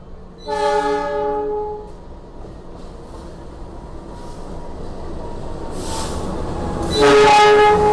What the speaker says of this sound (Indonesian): kereta api Lodaya dari Solo tujuan ke Bandung sudah mulai memasuki stasiun Sidarja ya